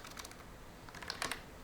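Quiet keystrokes on a computer keyboard while a URL is typed, soft scattered clicks with a small burst of closer, sharper taps near the end.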